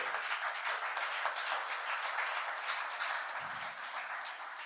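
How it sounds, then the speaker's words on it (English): Steady applause from an audience honouring online participants at a TVET learning lab session, a dense, even wash of many hands clapping throughout, fading slightly toward the end with no voices over it. "a round of applause to the online participants"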